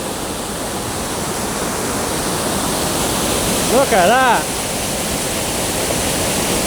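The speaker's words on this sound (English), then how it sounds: "And all of that water just flowing through." Steady rush of water flowing through a mountain stream in Imlil, a village in Morocco's Atlas mountains, a broadband roar filling the whole clip, with a brief spoken remark near the middle.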